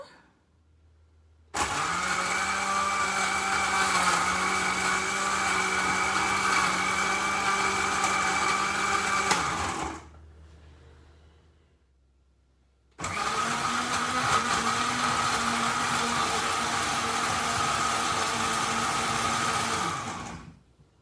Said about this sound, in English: Before start cooking, I'm going to blend the spice together